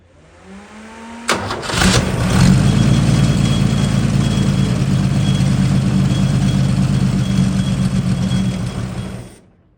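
Holden red motor with a misfire, cranking briefly and then catching into a loud, close, rough idle that holds steady before cutting off near the end.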